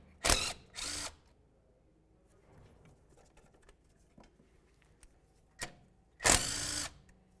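A power tool spins off a 10mm bolt on a Honda CR-V, running in short close bursts: two quick runs, a quiet pause with faint clinks, then a brief blip and a longer final run.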